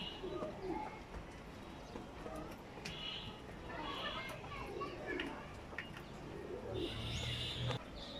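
Pigeons kept by a fancier coo softly in their loft, with several low, throaty calls repeating at intervals over a faint, steady background.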